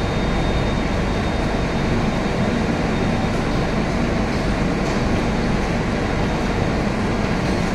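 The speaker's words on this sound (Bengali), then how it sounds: "এর পাশে দেখুন কয়লা ভর্তি মালগাড়ি যাচ্ছে।" A loud, steady rumble of a coal-laden freight train rolling past close by, continuous and unbroken throughout.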